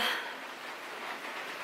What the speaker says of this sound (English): It was literally like pouring rain.